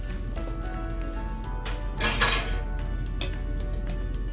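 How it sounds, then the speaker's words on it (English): An egg goes into a pan on low flame, a soft steady sizzle under pan and utensil clinks, with one brief louder scrape or crackle midway. "So I'm going to put the egg on first."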